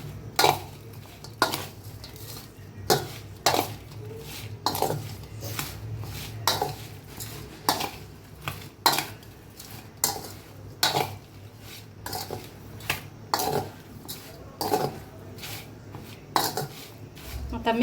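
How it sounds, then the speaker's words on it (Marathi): A spoon scraping and clinking in a bowl while mixing a Marathi-style mango pickle (aam ka achar) with pickle masala, sharp metallic knocks arriving every second or so in an uneven rhythm, close up and fairly quiet. "तर छान एकदा मिक्स करून घेऊया चमच्यानं"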